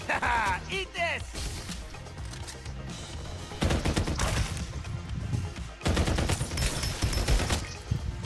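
Rapid bursts of gunfire in the battle royale shooter Farlight 84 come in loud, dense volleys separated by short lulls, with faint game voices mixed in.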